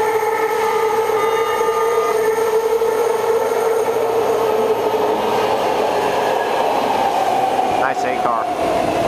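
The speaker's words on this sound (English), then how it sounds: "We're going to see a Pittsburgh Bay Point train approaching." A BART Pittsburgh/Bay Point train pulls up to a station platform, a steady loud rumble and whine filling the whole stretch with a brief squeal near the end.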